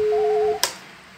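Ringback tone on a Panasonic KX-NS500 phone system while an IP telephone extension is called, a steady electronic tone with a short burst at the end, close and clear.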